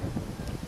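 Strong gusting wind rumbles and buffets a microphone outdoors during a biking leg of a daily endurance event, a low steady roar with uneven bursts, no voices.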